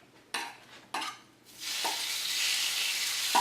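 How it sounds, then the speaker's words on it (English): Thin sirloin steak strips hit a hot pan, two quick clatters of handling followed by a rising, steady loud sizzle of stir-frying, close and without talk. "So the next thing we're going to do is go in with our steak."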